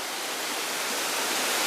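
Water pours down a waterfall in a steady, close, continuous rushing roar that stays even throughout, with no voices.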